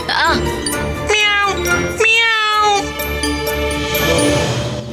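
A cat meows several times, drawn-out rising and falling calls, close and clear over a bright tinkling jingle in a Tamil television drama scene, with no speech.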